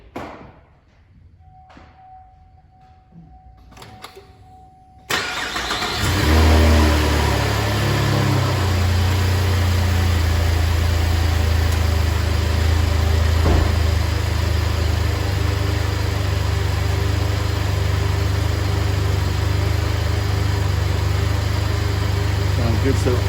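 A GM 3.6L engine with a misfire after dealership service cranks and fires up in a cold shop, then settles into a steady, loud, low idle that runs on continuously, with someone speaking before the start.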